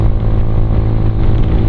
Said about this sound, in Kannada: ನಾನು ಥ್ರಾಟಲ್ ಫುಲ್ ಕೊಟ್ಕೊಂಡಿದ್ದೆ. ಗಾಡಿ ಸೌಂಡು ರಾಶಿ ಕೇಳ್ತೀನಿ